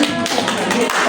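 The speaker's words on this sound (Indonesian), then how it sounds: "Oke, tepuk tangannya dulu." A class of high school students claps together in a classroom, a quick, even patter of many hands at close range that fills the short moment.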